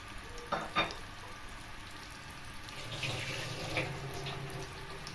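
Pointed gourds (potol) frying in hot oil, a steady broad sizzle throughout with a couple of sharper spits early on as pieces drop in, then a fuller crackle building toward the end.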